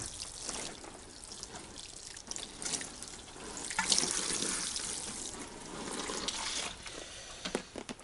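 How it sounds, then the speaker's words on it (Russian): Watering can slowly pouring water over a seedling cassette of freshly sown cabbage seeds, a close, continuous splashing trickle that swells and eases with a few small drips and knocks. "И не спеша ее проливаем."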